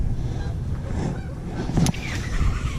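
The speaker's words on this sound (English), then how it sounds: "All the geese flying away." Geese honk as a flock flies away outdoors, the calls fairly distant and intermittent over steady background noise, with one brief louder call near the end.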